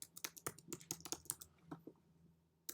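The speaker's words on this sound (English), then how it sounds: "I'm going to type my username and password over here" Someone types a username and password on a computer keyboard: a quick, uneven patter of quiet, close key taps that slows and pauses near the end.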